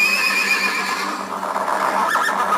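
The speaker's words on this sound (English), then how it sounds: "Horse." A horse neighs loudly and close, one drawn-out, wavering whinny that fills the whole moment without any talk.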